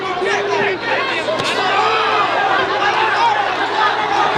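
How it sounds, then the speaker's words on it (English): Boxing-match crowd reacting loudly to a flurry of punches, a dense continuous roar of chatter and shouting that fills the whole stretch, with a sharp slap-like hit near the middle. "The crowd reacting"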